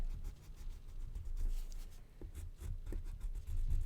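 Crayon scratching triangles onto paper, a close, steady series of short dry strokes and scrapes with uneven rhythm, heard alone without talk.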